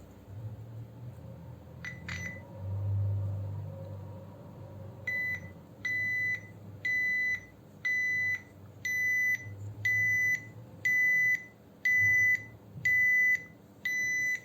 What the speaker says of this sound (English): This is some spare buzzer. Let me see